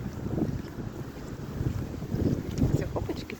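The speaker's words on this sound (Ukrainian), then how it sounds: "Вітер сильний, холодно." Steady, blustery, cold winter wind rumbling against the microphone amid falling snow, a low continuous roar with gusty swells and no voices.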